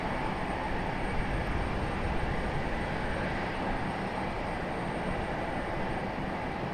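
A Delta airliner departing Raleigh Durham International Airport makes a steady, broad roar of jet noise that holds constant and fairly loud throughout, with no voices.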